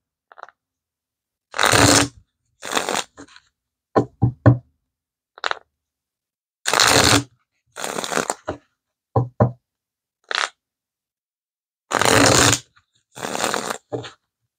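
Tarot cards being shuffled and drawn from a deck, heard as repeated bursts of crisp riffling and slapping, each lasting a second or less, separated by silent pauses and a few soft taps, close and clear with no talking.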